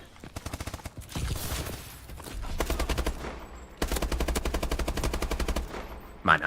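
Long rapid bursts of automatic gunfire in Call of Duty: Advanced Warfare on PS4, several sustained volleys of quick repeated shots, loud and close, with brief gaps between bursts.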